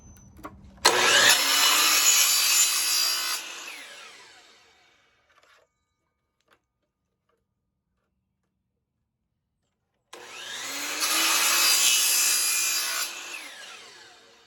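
Handsaw cutting a wood post at a 45-degree angle about two inches deep, in two long stretches of steady rasping strokes separated by a quiet pause, close and fairly loud.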